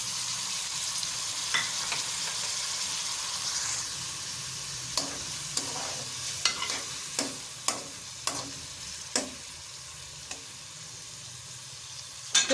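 Chopped tomatoes frying in a pan for an aloo shimla mirch (potato and capsicum) curry, a steady close sizzle with repeated sharp clacks of a spoon stirring against the pan, no voices.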